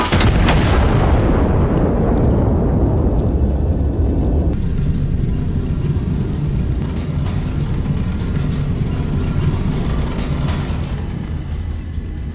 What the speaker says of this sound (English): Five seconds left until detonation. And kaboom.